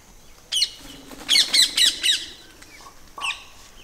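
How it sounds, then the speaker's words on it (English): A parakeet squawks in a homestead garden in India near a guava tree, several sharp, loud calls in a quick cluster, then one more squawk after a short gap. "Parakeet."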